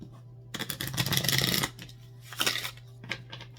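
Tarot cards being shuffled, two or three quick riffling bursts of papery card friction, close and crisp, over a low steady hum.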